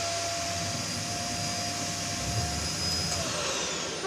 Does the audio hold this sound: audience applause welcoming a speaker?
no